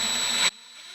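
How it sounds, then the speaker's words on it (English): Power drill briefly bores into a wooden cabinet door to enlarge small starter holes for screws, a loud steady whine that cuts off abruptly halfway through, leaving faint room hum. "Drill them out slightly, keeping the drill right in that hole that I made."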